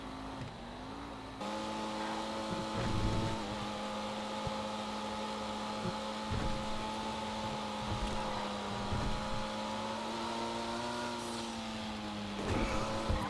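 Race car engine of a Comet SR in the GTA Online video game, a steady high-revving drone with gear shifts and brief tire skids, loud and continuous throughout.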